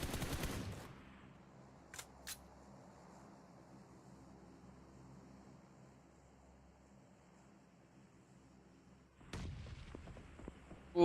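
Grenade blast and gunfire in PUBG Mobile: a loud burst at the start, two sharp distant shots, then a low rumbling lull before another heavy blast of fire near the end, with no talk.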